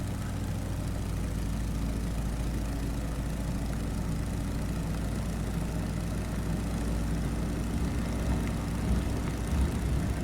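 A Stearman PT-17 biplane engine roars steadily through its takeoff roll, a loud, continuous low drone that holds even without a break, with no voices.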